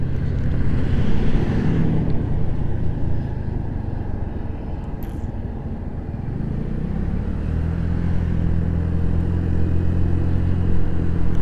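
A Honda Navi motorcycle on the move, its steady low engine drone buried under constant roaring wind buffeting the microphone as it rides along.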